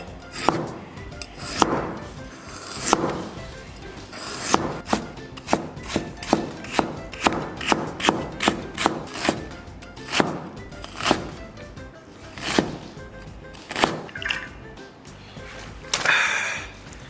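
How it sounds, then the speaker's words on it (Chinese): Kitchen knife finely mincing scallions and ginger on a cutting board, a run of quick, crisp chops with uneven spacing, some strokes louder than others, heard up close with no talking. "然后咱们把葱给它切成末，再来点姜末"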